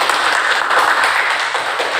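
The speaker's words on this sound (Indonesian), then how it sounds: "Tepuk tangan dulu kita semua." A group of students in a classroom claps together, a dense, continuous patter of many hands that stays loud and even for the whole stretch with no voices over it.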